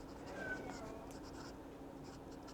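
A Lamy NEXX fountain pen with a broad nib scratching softly across paper, a faint continuous scrape with small stroke bursts under a low background hum.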